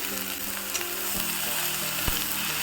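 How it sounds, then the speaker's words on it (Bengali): Jute leaves dropped into a pan of frying onion and green chilli, with a steady close sizzle and a few short scrapes and knocks, no talking. "এই যে ভাজা কিন্তু প্রায় হয়ে গেছে এবার এই দেখুন পাট পাতা কিন্তু দিয়ে দিচ্ছি"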